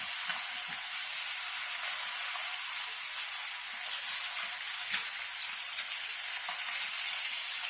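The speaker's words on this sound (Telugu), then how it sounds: "జస్ట్ కొంచెం అవ్వాలి ఫ్రై." Fish frying in hot oil, a constant bright sizzle and hiss with small irregular pops and crackles, close and steady with no voices.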